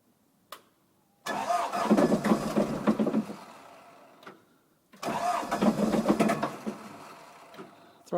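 A small engine starts up and revs hard in two long bursts with brief silent gaps between them, close and loud, with a short pop before each run.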